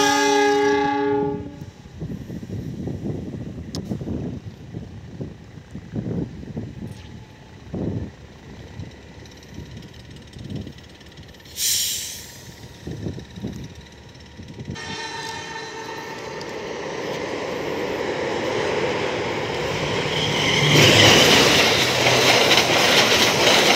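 The Jaka Tingkir passenger train sounds its horn in sharp blasts and pulls away, with rumbling wheels and clattering rail joints building as the cars roll past close by, followed by another horn burst and a loud rushing passage.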